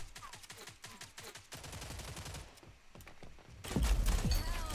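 Automatic gunfire with heavy recoil in Rogue Company, rapid bursts of shots early, then a louder, denser stretch of firing toward the end.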